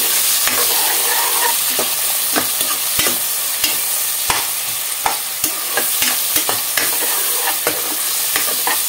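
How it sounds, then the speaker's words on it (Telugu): Sliced onions fry in a pan for a chicken mango curry, with a steady loud sizzle broken by frequent sharp scrapes and clacks as a spatula stirs them, and no one talks. "వావ్, ఉల్లిపాయలు చక్కగా వేగినాయండి"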